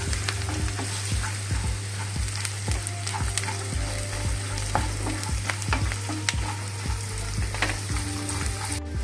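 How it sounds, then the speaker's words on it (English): Vermicelli upma ingredients with onions and turmeric are stirred continuously in a frying pan: a steady rhythm of close spoon scrapes and taps over a constant sizzle, loud and without speech. "Next we continuously stir all these ingredients until the onions are cooked"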